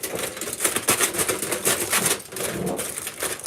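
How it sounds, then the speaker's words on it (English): Aluminum foil lining an air fryer tray being poked through with holes, giving a run of close, loud crinkling and crackling with sharp pokes repeating throughout, no talking. "I just poke holes in it so that the air can still move."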